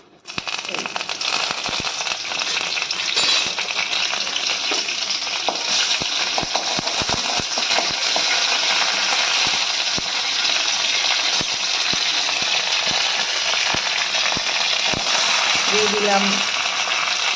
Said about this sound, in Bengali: কালো সর্ষে দিয়ে, কালো সর্ষেটা যে একটু ভেজে উঠবে